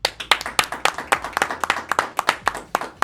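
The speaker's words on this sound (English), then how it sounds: "So everybody, please give her a round of applause." A small audience clapping for a guest, a few people producing brisk, close, uneven claps for about three seconds.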